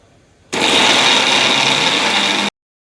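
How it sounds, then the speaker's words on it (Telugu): A kitchen mixer grinder whirs loudly while grinding peeled onions, starting abruptly and running at a steady high-pitched drone for about two seconds before cutting off sharply. "అన్నీ పొట్టు తీసుకొని మిక్సీలో వేసుకొని పట్టుకోవాలి."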